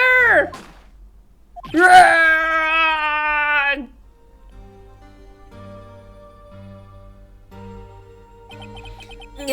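A scream from the Ace Attorney video game, a loud wailing cry with a brief yelp first and then a longer drawn-out shriek lasting about two seconds, followed by quieter game music.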